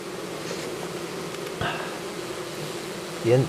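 Honeybees at their hives hum in a steady, moderate drone, with a couple of louder passes of a single bee flying close near the middle and end.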